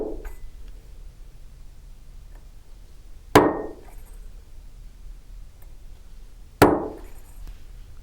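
Two sharp, ringing hammer strikes on a metal stamp during collage stamping land about three seconds apart, each decaying quickly over a quiet background.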